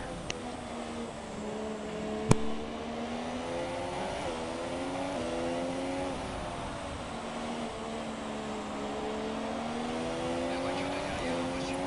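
An F1 race car in the F1 2017 video game at the Hungary circuit gives a continuous high engine whine that rises and dips with gear shifts, with one sharp click early on.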